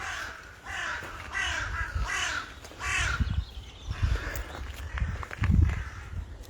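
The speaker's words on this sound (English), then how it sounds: "a crow, a big black crow doing quack, quack?" Several crows caw harshly in repeated bursts, fairly close, over outdoor rustling and footsteps crunching along the ground.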